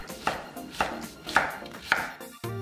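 A knife slices a young zucchini, cut lengthwise into quarters, into 1.5 cm pieces on a cutting board, four crisp, evenly spaced chops, close and clear, followed by a soft clatter.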